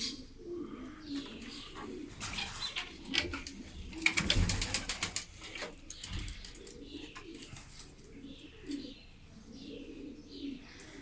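Domestic pigeons cooing in low, soft repeated calls, with a brief burst of wing flapping midway, moderately close.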